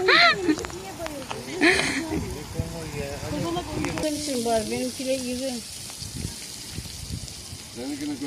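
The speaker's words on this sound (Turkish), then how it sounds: "domatesleri kızartıyoruz" Tomatoes and eggplants sizzle and fry in a hot pan at an outdoor picnic with a steady crackling hiss, while a voice talks over it and utensils clatter.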